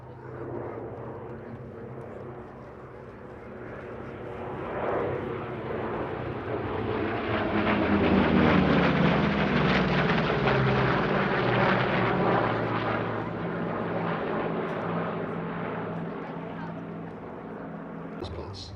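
A formation of navy fighter planes with piston engines totalling about 6,000 horsepower passes left to right at the Sywell airshow, a loud droning roar that swells as they near and then fades, with a commentator talking over it.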